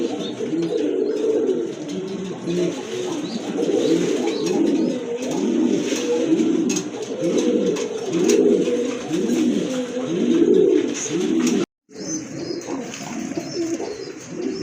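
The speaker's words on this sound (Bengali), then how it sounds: "এই যে দেখেন কবুতরটা" Pigeons, including large white Lotan pigeons, coo continuously in a loft, a dense overlapping chorus of rolling low coos close by, with no talk.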